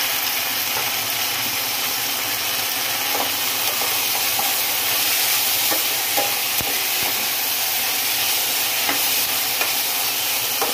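An onion mixture sautés in a pan for methi mutter malai, a loud, steady hiss of frying with occasional spoon scrapes and clicks, close by and uninterrupted by voices.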